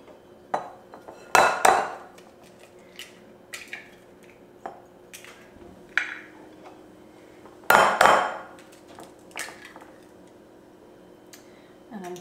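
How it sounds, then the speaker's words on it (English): Eggs being beaten in a bowl for gumdrop cookie dough, a run of quick uneven clicks and taps against the bowl with a few louder clattering strikes, near and fairly loud over a faint room hum. "it recommends that I beat the eggs really well"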